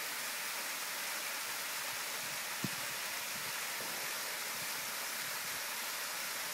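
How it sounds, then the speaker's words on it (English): The acid-stained Red Waterfall beside the Great Allegheny Passage Trail, fed by acid mine drainage, gives off a steady, faint hiss of falling water from some distance. The rush stays even throughout, with one brief knock partway through. "Gorgeous waterfall."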